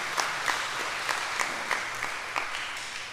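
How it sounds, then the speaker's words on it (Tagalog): A church congregation at a daily New Year's Day Mass applauds with a steady wash of clapping and a few louder claps standing out, heard from a moderate distance. "Bigyan natin muli ng palakpak ating mahal na ina."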